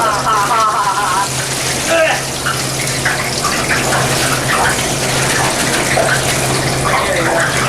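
Crinkle-cut fries dropped into a deep fryer, giving a loud continuous sizzling hiss and bubbling from close by that runs the whole time with a low steady hum beneath.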